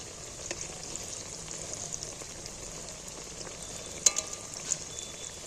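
Jackfruit chops frying in a kadai give off a soft, steady sizzle, with a few sharp clatters near the end as the pieces are flipped one by one.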